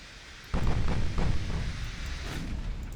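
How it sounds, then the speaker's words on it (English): Heavy 8-inch naval guns fire a broadside in a warship battle game, a sudden deep thunderous boom that rumbles and rolls on for several seconds with no voices. "That is the thundering of 8-inch guns, isn't it?"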